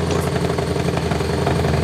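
Custom motorcycle engine fitted with a blower, running at a steady idle with a dense mechanical clatter and low throbbing rumble, close and loud throughout the short stretch.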